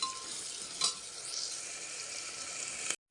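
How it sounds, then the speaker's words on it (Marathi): Whole spices fry in hot oil for masala rice, a continuous close hiss with light stirring scrapes, cutting off abruptly at the end. "हे दोन मसाले टाकून घेते अख्खे बघा कसं मस्त फ्राय व्हायला लागलेत"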